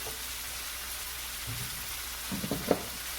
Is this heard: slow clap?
no